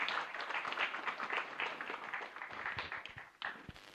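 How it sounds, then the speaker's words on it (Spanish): A congregation at a Catholic Mass in a chapel in Lambaré gives sustained applause, a steady, moderately distant clatter of many hands lasting several seconds. "Fuerte aplauso para el Señor."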